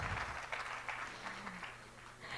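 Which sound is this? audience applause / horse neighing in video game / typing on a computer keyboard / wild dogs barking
audience applause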